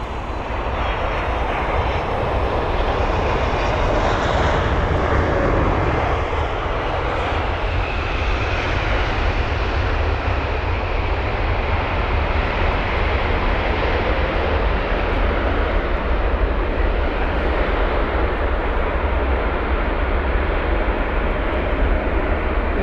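Korean Air flight KE503 at London Heathrow roars past as a loud, sustained aircraft engine rush that stays steady and close for the whole stretch, with no voices over it.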